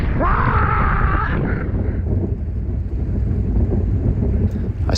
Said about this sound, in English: The wind's blowing 40, gusting 50.